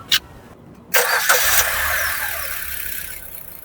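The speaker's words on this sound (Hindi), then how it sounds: "ये रहा हमारा 1462 सीसी का सीएनजी इंजन" A couple of faint clicks, then a Maruti Victoris 1462 cc CNG car engine cranks and catches, settling into a steady idle hum that stays close and even.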